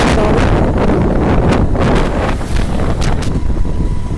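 Strong wind buffets the microphone outdoors, a loud continuous rumbling roar with gusty surges and flutter, steady throughout and no talking.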